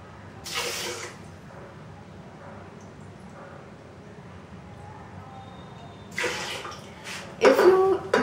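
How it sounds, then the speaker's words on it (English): Water splashes into a bowl of yogurt and sugar in a few short bursts, separated by quiet stretches, close by. "Now, I'm going to add 3 cups of water."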